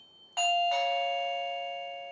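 A MECO smart home doorbell chime plays a two-note electronic ding-dong ringtone, clear and close, the second tone ringing out and slowly fading with no other sounds.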